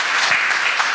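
A conference audience at a housing welfare forum claps to welcome a presenter, a brief, dense, even burst of many hands heard throughout.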